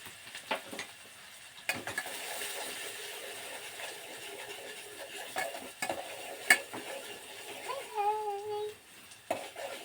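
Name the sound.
onion cooking in a pan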